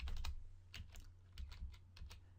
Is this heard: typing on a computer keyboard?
yes